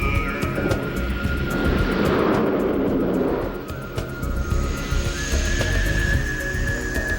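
An airplane at Lukla airport in Nepal roars with a loud, steady engine drone and rushing whine that swells in the middle, accompanied by faint whistling tones and a rapid ticking pulse.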